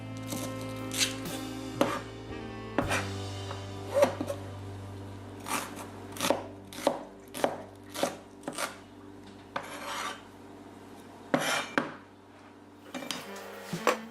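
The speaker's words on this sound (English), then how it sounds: "I use about a third of the onions, and I just roughly chop it up." Knife roughly chopping onions on a cutting board for a Chinese-style stir fry, a dozen or so distinct close chops at an uneven, unhurried pace over a faint background hum.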